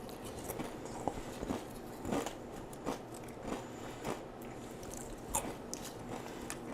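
Hardbite Sweet Ghost Pepper kettle chips crunch between the teeth in a series of sharp, close bites and chewing crackles, repeated at a steady pace with no talk.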